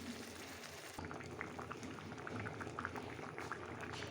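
Boiled kabuli chickpeas poured into a pan, with a sudden wet splash and then steady bubbling and sizzling that continues close and moderately loud.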